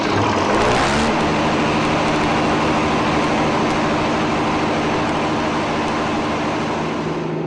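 A small motor running on homemade biogas after starting up keeps a loud, steady engine drone with a low rumble, unbroken for the whole stretch and with no voices.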